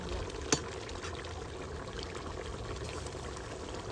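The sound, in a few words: draining water from cooked tomato rice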